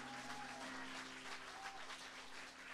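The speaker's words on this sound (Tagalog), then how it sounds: "Malakas na palakpak sa ating Diyos." A congregation claps at a Good Friday church service, steady applause filling the room at moderate volume with a faint sustained tone underneath and no talking.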